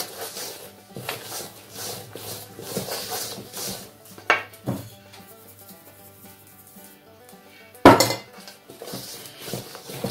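A spoon scrapes and knocks against a bowl while flour is worked into dough, giving irregular close clatters and rubbing with a couple of sharper knocks, no talking.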